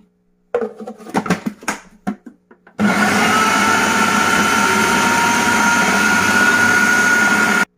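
An electric chopper whirs loudly and steadily as it minces chicken with green chillies, coriander and ginger garlic paste, preceded by a few seconds of clattering lid and container handling.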